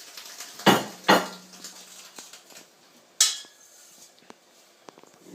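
Nettle heads dropped into a pan with a little boiling water at the bottom, giving a few sharp metallic clinks and knocks of pan and utensil, then quieter rustling and light taps.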